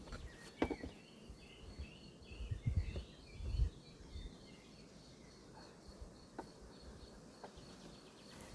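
Local honeybees buzz around an open beehive of three boxes; a faint, steady insect hum with a few louder passes drifts through the outdoor quiet.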